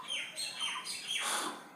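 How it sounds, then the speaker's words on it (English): Birds outdoors chirp and squawk in quick, overlapping calls, fairly clear and continuous through a short stretch, with no talk over them. "birds are making sound outside, and that is disturbing me a lot in delivering my lecture."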